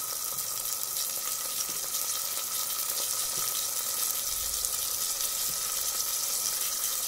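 Chopped onion and tomato fry in a pan for khichdi, giving a steady, even sizzle that holds throughout, with no talking.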